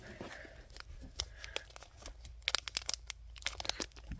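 Crinkly foil of a Pokemon card booster pack being torn open by hand, a run of sharp rips and crackles with brief pauses, close and fairly quiet.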